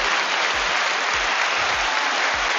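Dense, steady applause for a few seconds, loud and close, with periodic low thumps underneath.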